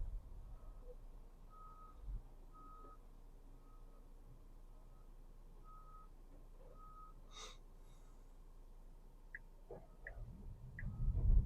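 A truck reversing in the road sounds its backup alarm: evenly spaced, faint electronic beeps, heard from a distance over low road rumble inside a car.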